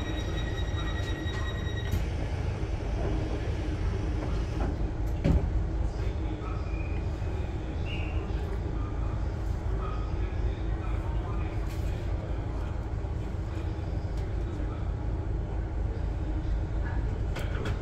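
A Class 455 electric train rumbles along on its way via Richmond, heard from inside as a constant low roar with rattles and a few brief high tones, while a voice speaks over it.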